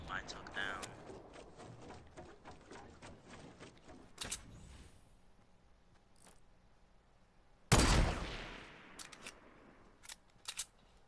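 Gunfire in a video game: a few sharp bursts, with a loud broadband blast near the end and scattered shorter cracks against a quiet background.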